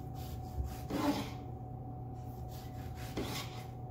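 A knife rasps back and forth through a tomato in a few short sawing strokes, quiet and close, over a faint steady hum.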